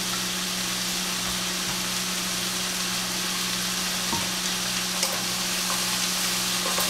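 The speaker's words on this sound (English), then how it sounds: "So I'm just gonna stir this in." A large batch of cabbage being stirred in a frying pan, a steady sizzle with a constant low hum underneath and a few sharp scraping clicks, close and even, no voices.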